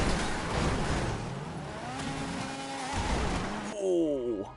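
Car engine revving in GTA Online, a droning rev that rises and falls, with a brief crunch of a crash and a final high whining sweep near the end, loud and continuous.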